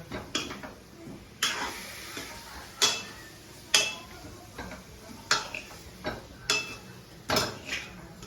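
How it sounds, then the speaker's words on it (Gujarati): Kathiyawadi-style curd corn is stirred in a pan, a spoon scraping and knocking against the metal in a regular series of close clanks about once a second, with faint room noise between strokes. "જો ગાઈસ હવે હલાવી દેવાની આપણે"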